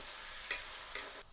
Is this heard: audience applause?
no